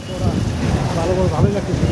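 Steady wind blows across the microphone with a continuous rushing roar, loud and close, with no other sounds standing out.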